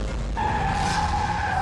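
A speeding SUV skids out of control on a highway before striking a parked tractor, a loud sustained tire squeal with a steady high whine over engine rumble throughout.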